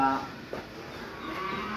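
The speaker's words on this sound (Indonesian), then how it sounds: "Ah, ini juga ada sapi-sapi doro Pak ya." Cattle on a farm in Bogor moo once, a fairly loud, close low call at the start, followed by quieter barn ambience with no speech.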